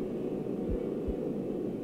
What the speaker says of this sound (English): It sounds like a heartbeat.